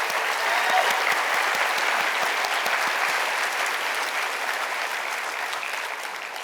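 A graduation audience for a health sciences school claps steadily, with a thick, even wash of applause that holds at a constant loudness throughout.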